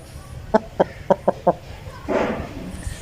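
An Aseel rooster clucks five times in a quick, evenly spaced series, close by, followed by a brief rustling burst and quieter background.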